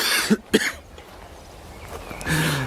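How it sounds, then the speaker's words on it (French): A man coughs twice in quick succession, close and sharp, then a softer throat-clearing cough follows after a quiet pause, all without speech. "Je tousse."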